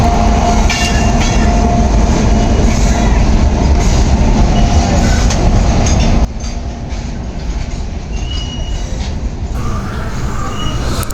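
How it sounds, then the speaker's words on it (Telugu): A long goods train passes without stopping through Pithapuram station in Kakinada district, a loud, close, continuous rumble of rolling wagons with rail clatter and faint squeals, dropping slightly midway but still running on. "చాలా పెద్ద గూడ్స్ ట్రైన్ లాగా ఉందండి, ఆగట్లేదు అసలు అక్కడ"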